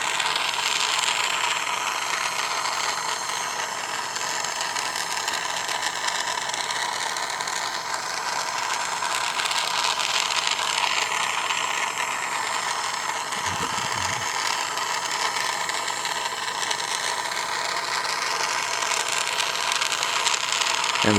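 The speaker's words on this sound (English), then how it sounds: "because this torch is not as hot as the ones that I use with oxygen and gas mix" A gas torch burns steadily with a broad, even roar as it heats a copper vessel for annealing, running without a break from start to finish, with a short low thump partway through.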